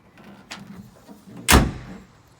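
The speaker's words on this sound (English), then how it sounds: "If we put the tailgate back up again" A Toyota Hilux Invincible D4-D double cab pickup tailgate is raised and shut, a lighter clunk followed by one loud, close metallic slam that rings briefly, with no talk.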